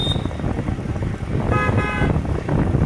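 In congested Delhi traffic, two car horn honks sound: a brief one at the very start and a longer blast midway, both over continuous engine and road noise.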